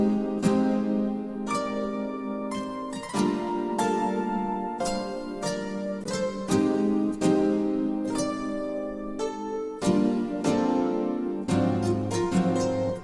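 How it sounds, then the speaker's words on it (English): Layered piano chords programmed in FL Studio play alone, a steady sequence of sustained chord changes roughly every one to two seconds, full and even in loudness with no voices. "And then all together the chords would sound like this."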